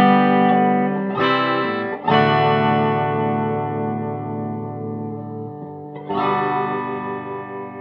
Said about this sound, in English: high gain for distortion